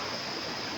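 A river stream rushes steadily at a picnic spot, a constant close broadband wash of flowing water with no pauses or voices.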